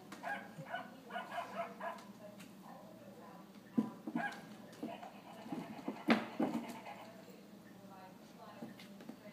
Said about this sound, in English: What is that, Bugs? Is that a puppy?